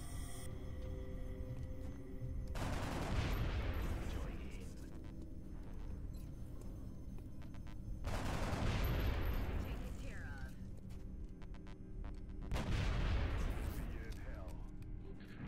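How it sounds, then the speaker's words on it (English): Gunfire from shooting an alien in XCOM: Enemy Unknown Long War, heard as three loud, booming bursts spaced several seconds apart over steady game background noise. "Let's just shoot that thing in the butt."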